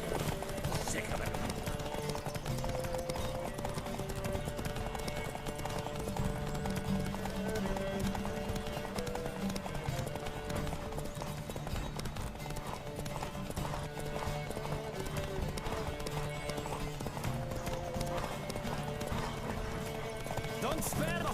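Galloping horse in The Witcher 3, a steady rhythmic clip-clop of hooves running throughout, with an occasional neigh, layered under game music and spoken character dialogue.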